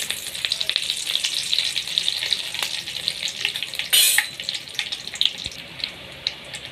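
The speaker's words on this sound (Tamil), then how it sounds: "கடுகு பொரிஞ்சோடனே கருவேப்பிலை போட்டுக்கலாம்." Curry leaves hit hot oil in a pan where mustard seeds have just popped, setting off a continuous close crackling sizzle with scattered spits and one sharper burst, for a Tamil-style crab pepper gravy.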